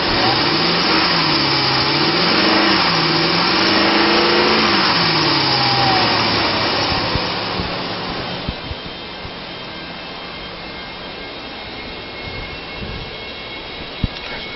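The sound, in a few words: 2006 Dodge Ram 1500 4.7 liter engine running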